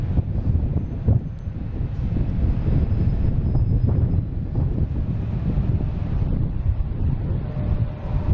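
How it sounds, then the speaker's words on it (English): An American Airlines Airbus A321 arrives at Boston Logan, its engines giving a broad, steady low roar mixed with wind buffeting the microphone, with no voices. "we have American Airlines here coming in from Charlotte. An A321"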